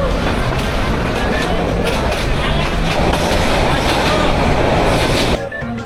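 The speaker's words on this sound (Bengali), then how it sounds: "15 মিনিট দেরি করে ট্রেন ছাড়ল রাত ঠিক 12টায়।" A night train departs and runs on its rails toward Chattogram, a loud, steady rumble with rhythmic clatter heard from on board, cutting off abruptly near the end.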